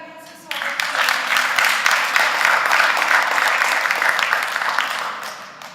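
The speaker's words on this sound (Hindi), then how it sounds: "जोरदार तालियों से स्वागत" Loud audience applause at the Prerna Awards ceremony in Singapore bursts in after a brief quiet moment, holds as a thick, sustained clapping roar, then tapers slightly near the end.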